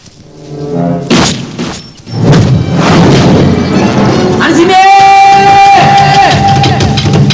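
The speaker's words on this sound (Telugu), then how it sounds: "ఈ పిస్టల్ సౌండ్ ఏంట్రా?" A pistol shot rings out in a Telugu movie scene as a sharp, loud bang, followed by a second impact and a sustained rush of noise with ringing tonal sounds toward the end.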